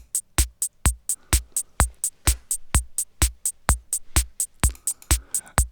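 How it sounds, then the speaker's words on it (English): A crisp hi-hat ticks in a steady, even pulse, about four hits a second, played alone and clean. "start with making a 4/4 hi-hat, which sounds like this"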